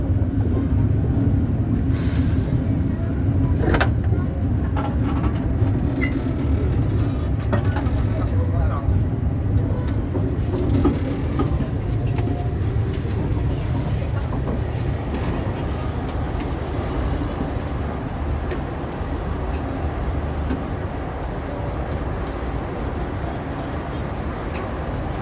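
A Probowangi economy train arrives at Jember station, with a steady loud rumble of railcars rolling in, occasional wheel squeals and a busy crowd of voices throughout on the platform.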